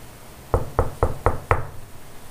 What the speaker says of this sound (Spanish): Tocaron a la puerta.